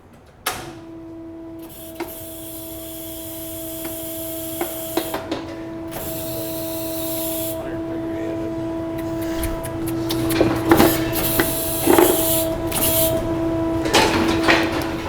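A hydraulic head holder on a cattle chute operates, giving a sustained mechanical hum with a steady tone, broken by sharp clanks and knocks of metal as the neck bar moves, with no talk over it.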